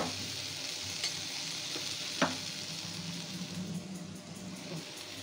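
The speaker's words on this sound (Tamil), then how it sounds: "இந்த ஸ்டேஜில் வந்து நம்ம வந்து தேங்காயை போட்டு அதையும் வதக்கிக்கிட்டு இருக்கோங்க" Grated coconut and ginger sauté in a hot pan for chutney, making a steady close sizzle with occasional light scrapes of stirring.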